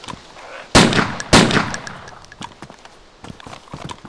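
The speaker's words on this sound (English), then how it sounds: "I'm gonna try and fire this now" An MP5k submachine gun fired in the DayZ game: two loud, sharp shots about half a second apart, followed by fainter metallic clinks and ringing taps fading over the next few seconds.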